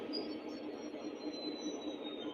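Model train running on its track, a faint, steady rolling hum with a thin high whine drawn out above it, quiet and unbroken for the short stretch.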